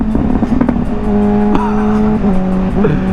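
A modified Honda CBR600RR sport motorcycle engine roars loudly at full throttle, its pitch climbing as it accelerates hard, close up with wind noise.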